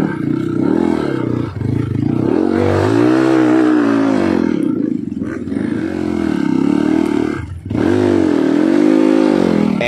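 Off-road motorcycle engine revving hard as it climbs a steep S-shaped uphill trail at a trail-riding event in Gununghalu, loud and close throughout, with rising and falling revs and brief throttle dips.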